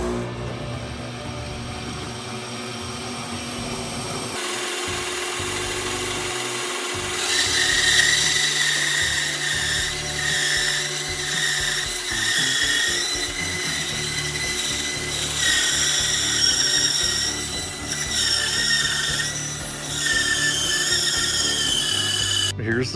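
A table saw roars steadily through a cedar board, with rising cutting noise and rough rubbing of wood as the cut progresses, close and loud.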